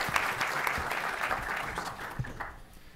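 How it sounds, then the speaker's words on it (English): An audience applauding to welcome a panel at a talk on Mexico's energy reform: steady, dense clapping throughout, fading slightly toward the end. "please give a round of applause to welcome our panel"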